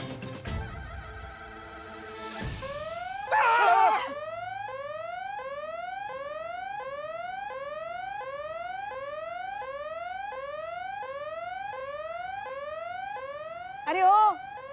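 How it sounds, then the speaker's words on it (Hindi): A mobile phone alarm set as a daily medicine reminder rings with repeated rising electronic chirps at a steady quick pace, moderately loud and continuous, after a brief jumble of other sound at the start. "ये हमारा फोन का अलार्म बजा"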